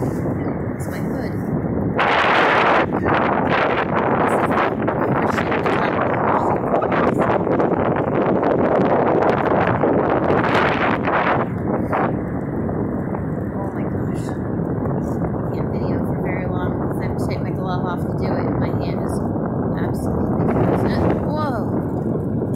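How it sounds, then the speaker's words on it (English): Strong wind roars and buffets across the microphone at the top of Niagara Falls on a cold winter day, a loud, continuous rumbling gust that swells and eases throughout. "Windier up here than it was down there at the base of the falls."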